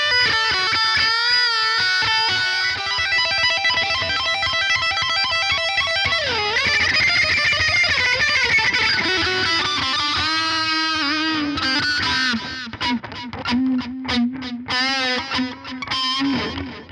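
Electric guitar played through a chain of dirt pedals into a Fender Princeton Reverb ToneMaster amp, loud sustained distorted chords and bending lead lines ringing continuously, then choppier staccato notes near the end, alone with no talk.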